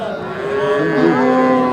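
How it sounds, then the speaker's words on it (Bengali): A young Sindhi heifer at a cattle market lows once, a close, fairly loud moo that rises and holds for under two seconds. "এই যে দেখেন ছোট্ট একটা বকনা"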